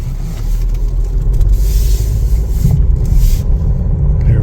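A 2021 Chevrolet Trailblazer LS under way on a test drive, giving a steady, loud low rumble of engine and road noise from inside the cabin, with a brief hiss partway through and no talking.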